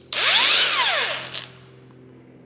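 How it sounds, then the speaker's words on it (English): A cordless angle grinder spins up with a sharp high whine that sweeps up and back down over about a second, then cuts off, leaving a faint hum. "It's another angle grinder by the feels."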